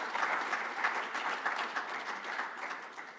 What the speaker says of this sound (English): So I think we have to also clap for that one